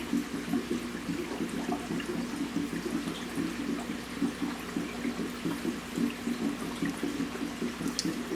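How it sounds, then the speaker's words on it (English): Clean water is added to a 125-gallon aquarium, a continuous pouring gurgle with a quick, choppy bubbling rhythm throughout. "I'm going to add some clean water in here, clean it up a bit, turn the filters on,"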